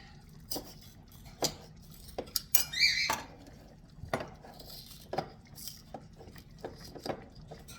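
A paring knife cuts open a packet of oregano in a home kitchen, making a string of sharp, close clicks, taps and crinkly scrapes at an irregular pace, with quiet pauses in between.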